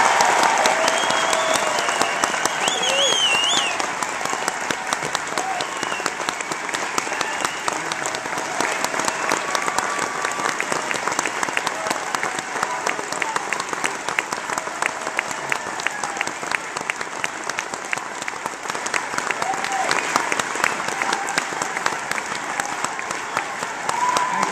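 An audience at a political speech cheers and applauds loudly, with dense, sustained clapping and crowd noise that carry on steadily for about twenty-five seconds.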